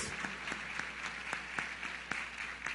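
A church congregation claps for the King of Kings, a short burst of sparse, fairly quiet applause with separate claps standing out.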